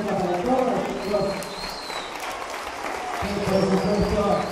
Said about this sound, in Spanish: Ese aplauso extensivo enorme de Verónica para todos los chicos.